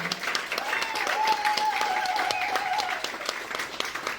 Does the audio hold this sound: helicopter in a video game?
no